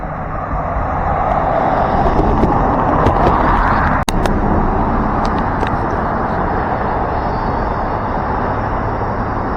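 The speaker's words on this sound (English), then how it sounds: "cars go on behind us, and you can feel a thud thud" Steady, loud roar of passing cars on the Deception Pass Bridge to Whidbey Island, a continuous broadband traffic rush with one sharp thud partway through.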